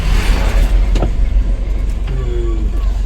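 Car engine hums and rises under the accelerator during a driving lesson, a steady low drone with a brief higher whine near the end, close and continuous.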